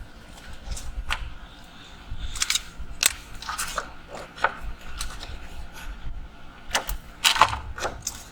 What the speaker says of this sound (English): I'm going to cut away the excess piece down here at the bottom